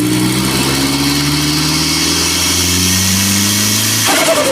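A turbocharged SR20DET engine swapped into a BMW E36, making over 300 horsepower through a custom intake with a K&N filter, revs loudly up close, its pitch climbing steadily for about four seconds before dropping off sharply.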